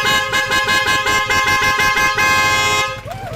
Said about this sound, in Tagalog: Sniper 155 nyo mga kabekis. Dapat ganito rin ang tunog ng busina nyo.